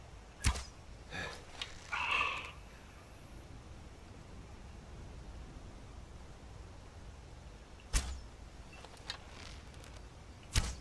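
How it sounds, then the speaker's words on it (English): Arrows strike the player in Skyrim, sharp thudding impacts that come alone with long quiet gaps between them over a faint hiss. "Taking arrows from somewhere, but they don't know where."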